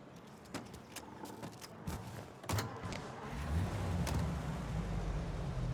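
A car driving in the Mafia: Definitive Edition video game, an engine rumble that builds into a steady low drone, with scattered clicks and knocks early on, fairly quiet overall.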